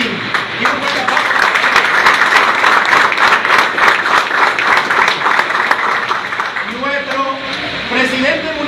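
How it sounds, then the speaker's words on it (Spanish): A crowd applauds loudly and steadily for several seconds, with a voice speaking over the clapping as it begins to fade. "Y un fuerte aplauso."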